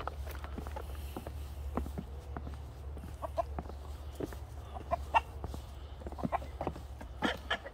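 Chickens clucking on a muddy farm walk, a steady series of short clucks and calls at close to middle distance over a constant low rumble, with footsteps now and then.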